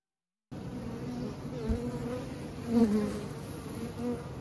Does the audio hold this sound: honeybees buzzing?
yes